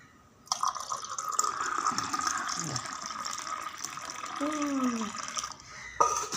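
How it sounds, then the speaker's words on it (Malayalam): Hot rice water (kanji vellam) poured into a vessel of water in a home kitchen, a steady splashing flow that runs for about five seconds and then stops, close and fairly quiet. "ഈ വെള്ളത്തിൽ ഒഴിക്കാം കഞ്ഞിവെള്ളം"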